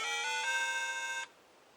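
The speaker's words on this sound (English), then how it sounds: "that's my ringtone" A mobile phone ringtone plays as a bright, steady melodic chime for just over a second, then cuts off abruptly, leaving only faint room tone.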